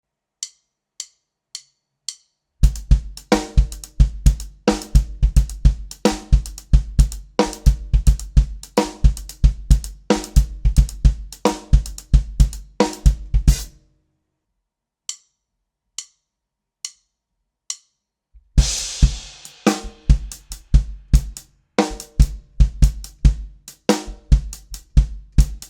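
A drum kit plays a groove in 5/4 time with the hi-hat in a polymeter against it, sharp dense hits and steady ticking cymbal strokes, close and loud, with a short near-silent break midway and sparser hits later.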